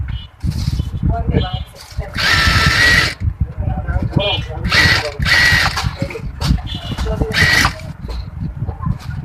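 Sewing machine topstitching a baby kameez, bursts of loud mechanical whirring that stop and start between spells of someone talking nearby.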